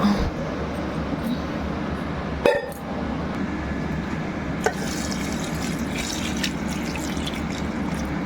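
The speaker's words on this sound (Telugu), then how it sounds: "ఇదిగోండి 2 లీటర్స్ వాటర్ వేసానండి" Two liters of water pour into a pot for homemade shampoo, a steady rushing stream with a single sharp clunk partway through.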